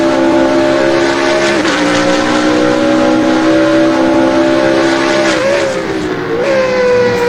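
A Ferrari race car engine in Assetto Corsa at Mugello howls at high revs, a loud continuous whine that dips and climbs with brief gear changes near the end.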